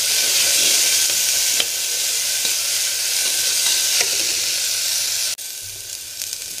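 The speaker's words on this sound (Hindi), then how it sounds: "प्याज को गोल्डन ब्राउन होने तक स्टर फ्राई करेंगे" Onions stir-fried in a pan until golden brown for a daliya dinner give off a steady close sizzle, with repeated scraping stirs and a brief dip near the end.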